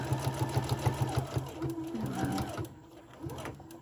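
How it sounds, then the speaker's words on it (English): Sewing machine stitching and back-stitching a fabric face mask with a pocket, a quick rhythmic mechanical chatter close up that runs steadily, then stops, leaving quieter handling noise. "So I'm going to start by sewing, back stitch, and I'm going to sew"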